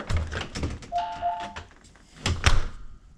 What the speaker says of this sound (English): Now if we open the door, look at that.